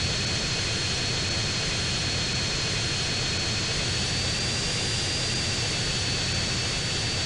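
A stolen fighter jet's engine roars in GTA San Andreas Mobile, a loud, unbroken jet whine and rumble with a thin high tone running through it.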